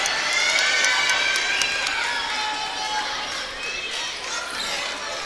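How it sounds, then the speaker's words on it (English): Spectators cheer and shout at a high school volleyball match between Lawrence County and Brentwood, a loud gym crowd roar with sneaker squeaks that fades slightly toward the end. "He's cheering for every point."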